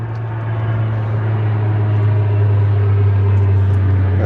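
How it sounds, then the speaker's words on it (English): A propeller airplane leaves Toronto Island Airport, its engine a loud, steady low drone with a strong hum that holds throughout, close and continuous, with no talking over it. "There's that airplane again."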